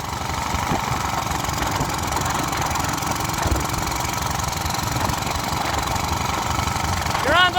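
A gasoline pressure washer engine, run to destruction on questionable fuel, chugs steadily like a diesel with a rough, knocking idle, loud and continuous, with a brief revving surge at the very end.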